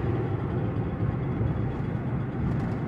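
Ford F-150 4x4 with failing four-wheel-drive actuators, heard while driving: a steady, loud low rumble and drone runs unbroken throughout, with road and engine noise filling the whole span.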